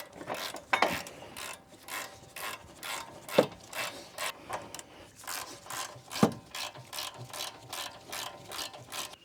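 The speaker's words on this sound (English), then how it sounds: "And then we're going to re-tighten down our bolts." A hand ratchet tightens the rotor bolts on a car's front brakes, giving a steady run of quick, close metallic clicks with no talking.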